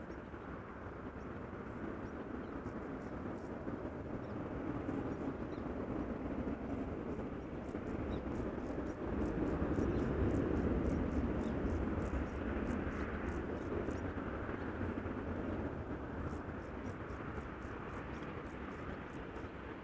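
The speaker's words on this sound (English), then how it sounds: "KLM flight 601 going to LAX, 787-10 Dreamliner" A KLM Boeing 787-10 Dreamliner departing Amsterdam Schiphol gives off a steady, broad jet roar that swells a little at midpoint and stays fairly distant, with a faint rhythmic high ticking above it.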